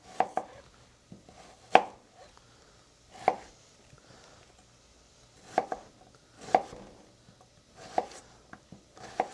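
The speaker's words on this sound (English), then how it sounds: "always use a sharp knife. Sharp knives are great, and they hurt a lot less when you cut yourself. Cut away from yourself and push the blade." Sharp knife chopping onion on a cutting board, a series of crisp, close knocks spaced unevenly about a second apart against a quiet background.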